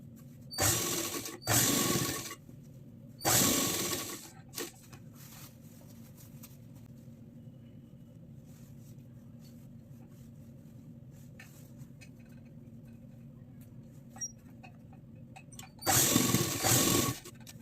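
A sewing machine runs in short close bursts, three fast whirring runs of stitching elastic onto a circular umbrella palazzo, separated by quiet pauses with faint handling noises.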